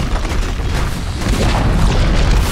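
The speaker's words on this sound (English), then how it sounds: "Dire's middle tower has fallen." Dire's middle tower collapsing in a Dota 2 match, a loud, sustained low boom and rumble that rolls steadily for the whole couple of seconds with no voices over it.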